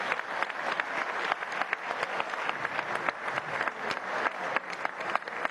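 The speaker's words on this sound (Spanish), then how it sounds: "Delcy Rodríguez, vamos a darle un aplauso" Audience at a government ministers' report session giving sustained applause, dense and steady clapping from many hands throughout.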